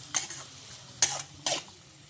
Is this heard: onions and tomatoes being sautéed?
yes